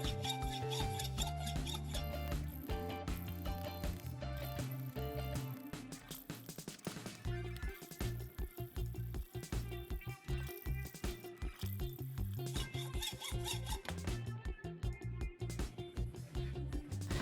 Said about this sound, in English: and then I chopped them down with the hacksaw.